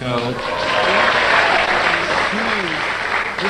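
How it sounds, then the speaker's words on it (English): Audience applause at a recording of the comedy panel show I'm Sorry I Haven't a Clue, a loud, sustained round of clapping that fills the room while a voice carries on over it. "So, Goose, you got a round of applause on Goose."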